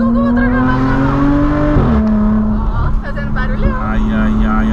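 A manual-transmission car driven by an inexperienced driver who keeps accelerating without changing gear, the engine holding a steady strained drone before dropping in pitch, with people talking over it.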